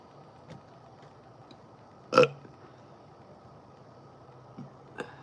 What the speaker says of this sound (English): Had a burp stuck.